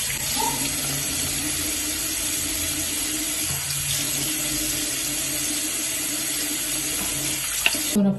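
Tap water runs steadily into a bathroom sink during face washing, a constant close splashing hiss with slight shifts as hands move under the stream, ending in a brief clatter.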